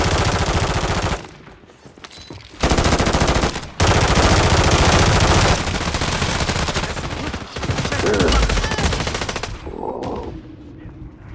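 Heavy automatic gunfire in a Call of Duty match, long loud bursts of rapid shots with brief pauses, then a quieter stretch of scattered fire near the end.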